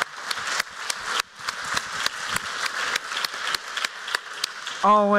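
An audience claps steadily in a dense, sustained burst of applause, and a voice starts speaking just as it ends.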